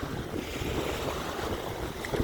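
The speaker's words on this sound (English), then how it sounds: "You listen to the wind, you listen to the water" Wind and lapping waves on the Bruce Peninsula shoreline as a thunderstorm rolls in, a steady low broadband rush of water and gusts with no voices.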